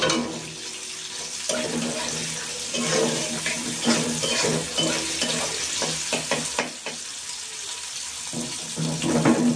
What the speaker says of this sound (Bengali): তাহলে পেঁয়াজটা আমি ভালো করে ভেজে নেব।